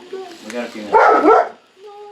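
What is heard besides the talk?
dog barking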